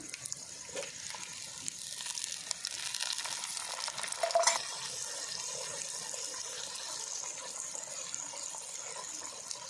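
Tomatoes go into a pan of drumsticks frying in a Telugu curry, with a steady close sizzle and stirring that holds for about ten seconds and swells briefly near the middle, with no voices over it.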